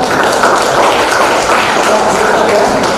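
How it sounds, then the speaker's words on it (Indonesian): A classroom group gets dense, continuous applause, a steady close wash of many hands clapping for the full few seconds without pause. "Tepuk tangan dulu untuk kelompok 5."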